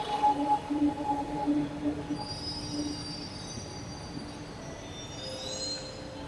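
Metro train arriving at a platform, squealing wheels and a high metallic whine over a steady rumble, loud and sustained as the train slows, with no voices.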